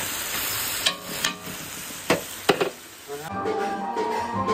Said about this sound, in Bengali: তেলটা গরম হচ্ছে আসছে তেলটা গরম হচ্ছে মাছের মাথাটা দিলে